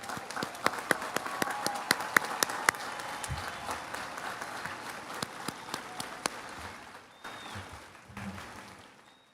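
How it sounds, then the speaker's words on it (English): Applause for parents and guardians at the Cypress Ridge High School class of 2021 graduation, scattered crisp claps over a softer crowd wash that thins and fades toward the end, fairly distant. "Let's give them a big round of applause,"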